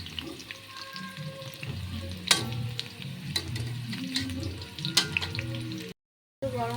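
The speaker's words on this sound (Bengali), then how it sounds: "লাল লাল করে ভাজতে হবে, তবে ভালো লাগবে খেতে আলুটা" Potatoes frying in a pan until browned, a steady close sizzle with stirring clatters and scrapes throughout, broken by a brief dropout near the end.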